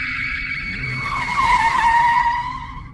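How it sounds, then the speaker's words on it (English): Tires screech loudly as a car brakes hard and skids, a sustained high squeal that rises and bends in pitch before trailing off, close and alone without voices. "Mark slammed on the brakes,"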